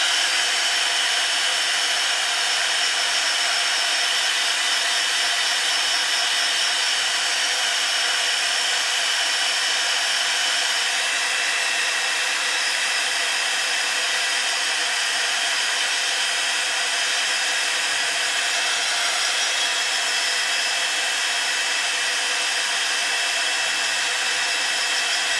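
Hair dryer blowing to dry brush pen ink on paper, a steady loud whirring roar with a constant tonal whine, running close and unbroken the whole time.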